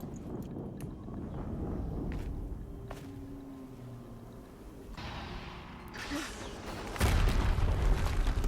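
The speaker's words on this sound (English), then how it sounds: "Another explosion." An explosion in the video game Horizon Zero Dawn lands with a sudden heavy boom near the end, after quieter scuffing footsteps and muffled game ambience, with a faint voice earlier.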